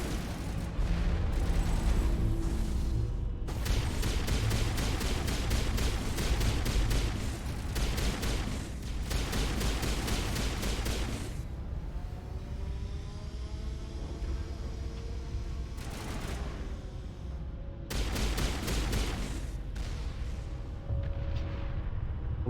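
Heavy gunfire and large weapon blasts during combat in Mass Effect 1 on Ilos, dense bursts of shots and booms in loud repeated waves with brief lulls between them.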